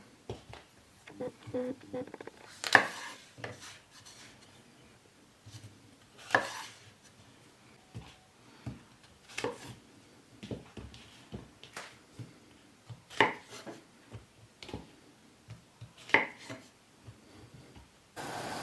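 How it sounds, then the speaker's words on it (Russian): A knife chops button mushrooms in halves on a board in irregular sharp taps, close by, with small clinks and scrapes between cuts. "поэтому мы порежем их на 2 части"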